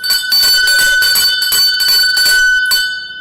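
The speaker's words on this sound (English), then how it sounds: "We got a winner? ring the bell. Ring the bell, Andrew." A hand bell rung rapidly and loudly to announce a contest winner, a bright metallic clanging repeated in quick bursts for about three seconds with no talk over it.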